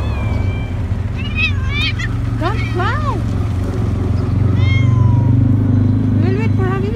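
Stray cats, hungry and some of them sick, meow repeatedly for food in a series of rising and falling calls, close by over a steady low engine-like drone, while a person talks to them.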